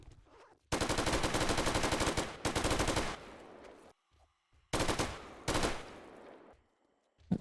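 Long, loud automatic bursts from an endgame light machine gun in a modded 7 Days to Die game, two rapid sustained volleys with brief gaps and a final short shot, no talking.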